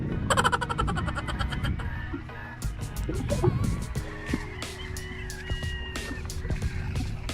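Chickens cluck and call in the open air, mixed with rustling, passing vehicle noise and other farmyard sounds, fairly close.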